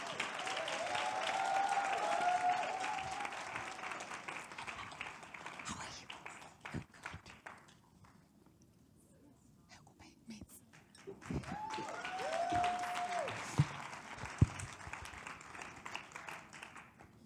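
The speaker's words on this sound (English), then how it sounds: "A round of applause, please, for Dr. Boitumelo Phetla." An audience at a talk applauds a speaker's introduction with quiet, scattered clapping that fades into near silence, then a second shorter burst of applause, all heard from some distance.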